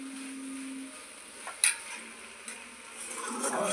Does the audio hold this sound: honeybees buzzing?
no